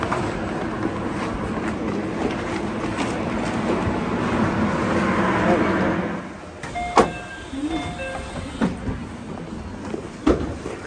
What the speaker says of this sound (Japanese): 南甲府駅から身延線甲府行きです。